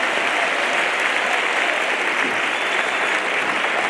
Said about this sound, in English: Can we give our parents a nice round of applause?